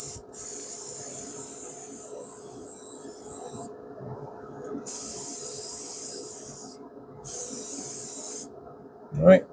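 Spray paint hissing onto a test spoon in three long, steady bursts separated by short pauses, close and loud, with a brief clink at the very end.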